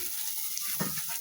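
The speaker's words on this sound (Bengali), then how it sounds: "মশলা কষায় নিছি" Spices frying in a pan, a faint, steady sizzle with a soft stirring scrape near the middle.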